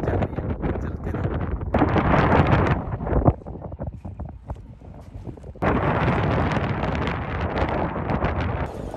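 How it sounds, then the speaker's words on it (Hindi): Strong wind in a Sahara sandstorm in Sudan buffets the microphone in heavy roaring gusts that ease into a quieter rustling lull, then surge back hard. "भाई अभी भी बहुत तेज़ हवाएं चल रही हैं"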